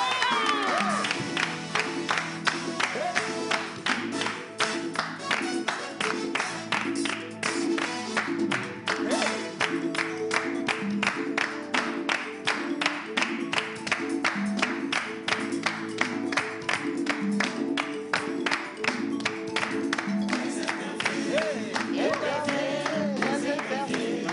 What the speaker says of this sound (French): Tout le monde se met debout. On applaudit.